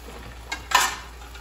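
Butter and herbs for risotto stirred in a pan, a brief scrape of a utensil followed by a soft hiss of sizzling, close and short.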